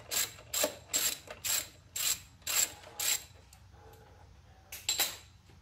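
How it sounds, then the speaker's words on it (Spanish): A ratchet loosening bolts on a 2002 Honda Civic engine during a timing belt and water pump job, seven quick rhythmic clicking bursts, a pause, then two more, close and fairly loud. "Continuamos soltando todos estos tornillos."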